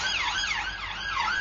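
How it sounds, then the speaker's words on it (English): An ambulance siren wails alone in a loud, continuous up-and-down sweep, close and steady for a short burst. "Ambulance."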